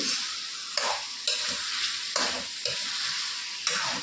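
Chicken pieces frying in a pan for Dakbanglo chicken, a continuous close sizzle broken by five regular stirring bursts about every second, no talking.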